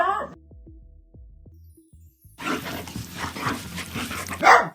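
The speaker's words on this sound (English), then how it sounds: "Just simple puzzle game with various type of dogs and their constant barking" Cartoonish dog barks from a puzzle video game featuring various dog breeds: a few short, spaced yips over a quiet musical backdrop, then a busier stretch of overlapping barks and game sounds ending in a loud bark.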